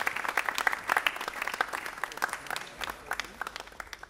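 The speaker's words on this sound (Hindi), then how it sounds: "ज़ोरदार तालियों से" Loud, dense applause rises from the audience at a staged Hindi play about Bahadur Shah Zafar, many hands clapping in a rapid uneven patter that stays strong throughout before tapering slightly.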